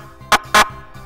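Two short, sharp horn honks sound in quick succession over a quiet background.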